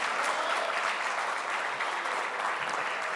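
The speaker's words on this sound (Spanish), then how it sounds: "Si gustan aplaudir" An audience applauds at a legal panel event, a steady, dense wash of clapping from many hands held at an even level for a few seconds without any voices.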